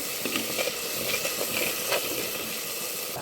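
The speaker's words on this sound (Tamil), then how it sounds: "நல்லா தக்காளி வதங்கி எண்ணெய் பிரிஞ்சு வர ஆரம்பிச்சிச்சு" Chopped tomatoes fry in hot oil in a pan for a fish curry. A steady close sizzle runs throughout, with a few light stirring scrapes.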